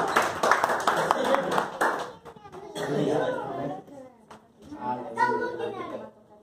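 A church congregation claps briefly at a children's fasting service, a short burst of close, crisp clapping that quickly gives way to talking, children's voices and light laughter.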